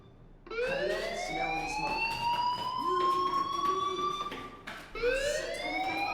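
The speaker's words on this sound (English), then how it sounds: "Hey, do you hear that fire alarm?" A school fire alarm in the video game Life Is Strange wails loudly with rising siren-like tones, starting abruptly after a brief quiet, dipping once and then restarting.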